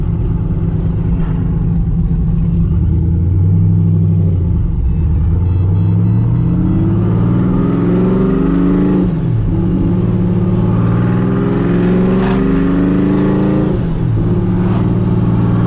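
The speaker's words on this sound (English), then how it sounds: "it is a lot louder with the cutouts open, obviously." A supercharged Pontiac GTO with its exhaust cutouts open rumbles loudly and close, the engine revving up and down in repeated swells with a deep, aggressive race-car tone.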